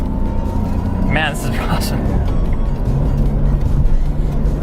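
A 400-horsepower JDM car accelerating hard, its engine a steady, loud drone throughout, with someone talking excitedly over it.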